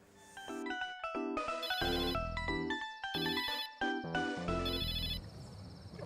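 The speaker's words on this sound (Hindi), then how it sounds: "ओए बाबा जी का फोन आ गया" A phone rings with an incoming call, its ringtone a loud, bright electronic melody of quick tonal notes that repeats in phrases, alone with no talking.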